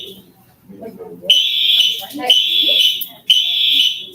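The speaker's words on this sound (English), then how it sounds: "We have a fire alarm in our room, which makes it super irritating when they test it." A classroom fire alarm being tested sounds in loud, shrill electronic blasts, three long pulses with short gaps between, while people talk underneath.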